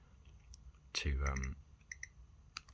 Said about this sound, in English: So you just sort of click on the screen to